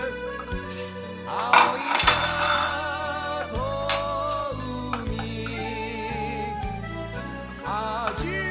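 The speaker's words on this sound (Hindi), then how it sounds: "अब इसके अंदर जो है ये वॉलनट जो है इसको शामिल करेंगे और मिक्स कर" Walnuts are stirred into melted caramel in a pan for caramel crunch, a spoon scraping and knocking against the metal in repeated clinks and strokes at close range.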